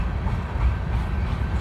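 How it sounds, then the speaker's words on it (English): A BNSF executive train rolls past close by, a dense steady rumble of wheels and cars with no voices. "as soon as we get here, this train starts coming right through"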